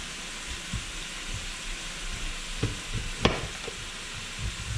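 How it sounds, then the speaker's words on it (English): Hamburger meat frying in a pan sizzles steadily while a utensil stirs and scrapes it, with a few clinks and knocks against the pan up close. "I'm going to go over here and stir our hamburger."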